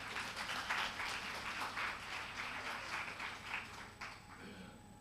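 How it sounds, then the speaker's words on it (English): Applause from a conference audience at a marine science session, a steady wash of clapping that holds for several seconds and fades near the end, faint and slightly distant. "we can give another applause for Stephen."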